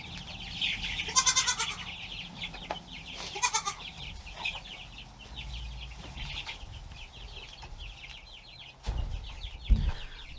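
Goats bleat several times at a distance in a barn, mixed with rustling and light bumps, with a couple of louder thuds near the end.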